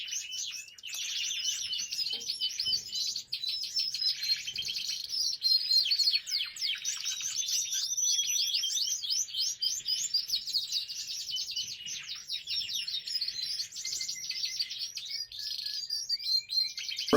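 Dense, continuous birdsong of several Lizard canaries, bright trills and chirps overlapping throughout, fairly close and steady with no talking.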